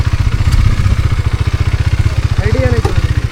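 A motorcycle engine thuds with a steady, rapid low pulse during a ride, loud and close, and a brief voice cuts in near the end.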